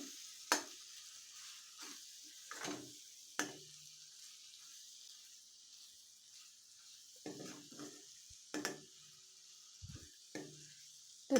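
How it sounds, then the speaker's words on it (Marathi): Spices and vegetables for puri bhaji being sautéed over low heat: a quiet, steady sizzle runs throughout, broken by a few sharp scrapes and taps of a spoon stirring the pan, with no talking. "हे सर्व व्यवस्थित परतून घ्यायचं कमी गॅसवरच दोन मिनिट परतून घ्यायचे"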